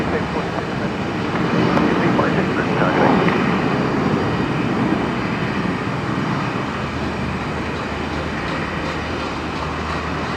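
Jetstar flight 906 airliner departing Brisbane Airport on runway 01, a loud continuous broadband jet roar that swells briefly early on and then holds steady, with a voice talking over it at times.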